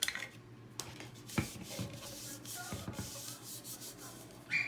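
A cup surface rubbed by hand, faint scratchy strokes coming in short irregular bursts with light clinks between them, close by and quiet.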